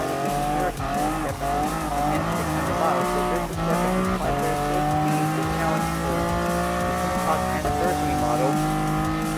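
A Lamborghini Huracan supercar races in Gran Turismo Sport, its engine roaring and shifting pitch through gears while tires squeal, loud and steady over about nine seconds.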